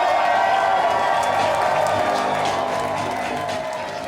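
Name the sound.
crowd cheering at a mayoral watch party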